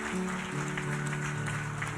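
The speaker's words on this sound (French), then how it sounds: "Applaudissez pour nous encore à la gloire de Dieu." A church congregation claps during a service, a dense, steady wash of applause at moderate distance with sustained musical tones running beneath it.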